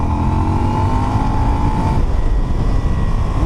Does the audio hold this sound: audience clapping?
no